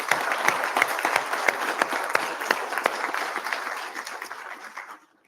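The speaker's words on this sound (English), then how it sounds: "how about a round of applause for these brave people that sat up here today?" An audience at a Tourette congress session in Athens claps steadily with crisp individual claps audible in the mass, holding level before fading out and stopping near the end.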